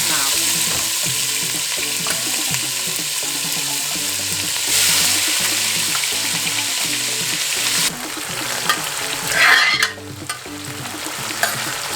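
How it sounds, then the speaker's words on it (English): Onions added to an oiled frying pan, sizzling steadily and loudly with an even crackle that continues without pause, with a brief louder burst near the end. "So we're going to add our onions now."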